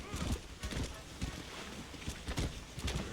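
Horse hooves galloping in the video game Red Dead Redemption, a steady rhythmic clip-clop of beats close by, heard under people talking.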